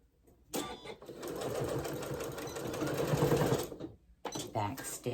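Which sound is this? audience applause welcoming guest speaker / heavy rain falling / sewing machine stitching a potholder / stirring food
sewing machine stitching a potholder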